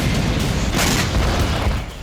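A missile strike explodes on a building in Khan Younis, a loud, dense roar of blast noise filling the whole moment with rumbling low end and no voices over it.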